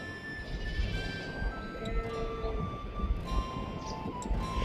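Sheep in the Scottish countryside bleat repeatedly, several wavering calls overlapping at mid distance over faint outdoor rustle.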